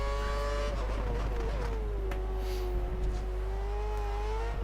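A Formula 1 car in F1 2013, a Lotus at the Singapore round, runs loud and steady, then brakes hard with a falling engine pitch and a brief tire squeal. No one speaks.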